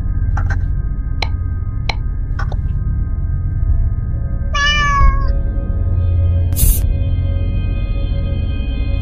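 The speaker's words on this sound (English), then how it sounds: "Meow." Cat meows from the horror video game Five Nights with Bud, a short rising-falling call in the middle and a sharper one later, over a steady low hum, with faint clicks early on.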